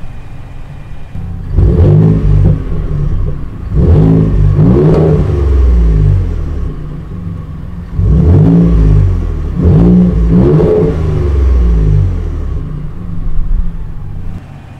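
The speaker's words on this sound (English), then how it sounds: "dual exhaust outlets, which deliver the Raptor's unique exhaust note" A 2020 Ford F-150 Raptor blasts through its dual exhaust outlets in four loud, close revs, each a deep roaring surge that rises and falls back to a rumbling idle.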